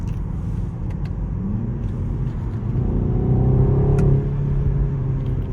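A BMW 128ti with a 265 hp engine drives along, its steady low rumble from inside the car rising slightly as it accelerates, then easing off, with no talk over it.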